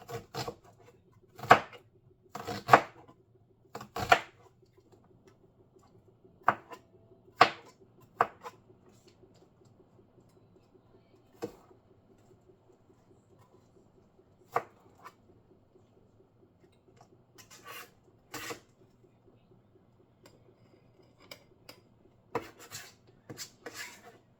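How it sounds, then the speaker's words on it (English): A knife chops vegetables by hand in a home kitchen while Sunday dinner is being cooked, heard as quiet, scattered taps and thuds on a cutting board with irregular pauses, alongside soft rustling. "I really kind of like hand chopping my stuff."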